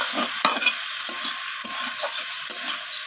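Fish curry spice paste for a surmai fish dish sautéing in a pan with a little water, a steady loud sizzle broken by repeated stirring scrapes of the spatula, no voices.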